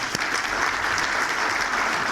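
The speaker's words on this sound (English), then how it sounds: "you should all give yourselves a round of applause" A room full of attendees at a chamber of commerce breakfast clap together, dense and steady applause close by, sustained throughout without talk.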